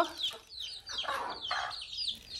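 Chickens clucking in a busy flock while eating, overlapping short calls and chatters at close range, with a few sharper squawks mixed in.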